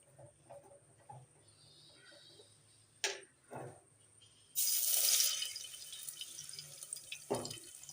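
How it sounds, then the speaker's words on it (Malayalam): Coconut oil is poured into a heated clay pot that is still wet with water, for fish curry. A few faint clicks come first, then a sudden loud sizzle that settles into a crackling hiss with scattered pops. "അതിലേക്ക് വെളിച്ചെണ്ണ ഒഴിക്കുക."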